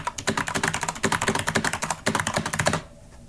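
Fast, steady typing on a Corsair K95 RGB Platinum XT mechanical keyboard, with dense close-up key clacks in quick rhythmic bursts that stop abruptly near the end, leaving quiet.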